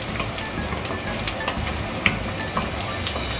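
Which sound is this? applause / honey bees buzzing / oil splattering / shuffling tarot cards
oil splattering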